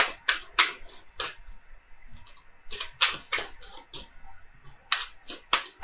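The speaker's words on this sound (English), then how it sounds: "I want to pull another card." Sharp, separate clicks and snaps of tarot cards being handled and pulled from a deck, close and crisp, coming in irregular quick bursts with brief pauses and no talking.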